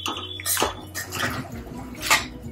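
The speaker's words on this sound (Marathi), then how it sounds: "आता यामध्ये पाणी घालायचं आहे" Water splashes and pours into a metal pan of cooking eggplant and potato curry in a few bursts, with light clinks of cookware; close and fairly quiet, no talking.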